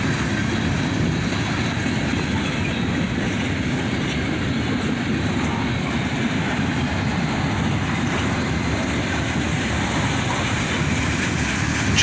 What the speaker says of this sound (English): here comes one of the old classic Conrail boxcars.